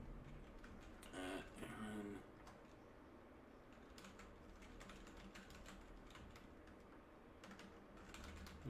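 Computer keyboard typing during a live online discussion stream, a steady patter of quiet clicks running throughout, with a short burst of voice near the start.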